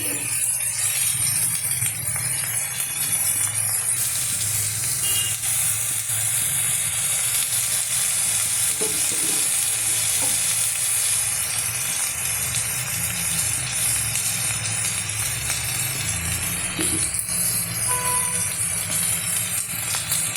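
Garlic paste frying in a pan gives a steady, loud hiss and sizzle of hot oil that holds unbroken throughout, with no talking.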